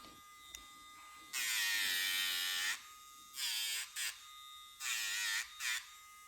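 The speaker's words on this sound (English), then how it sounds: "I think you have a better Dremel than I do" A Dremel rotary tool grinds a dog's nails in short, loud buzzing bursts of varying length separated by pauses, heard up close with no talking.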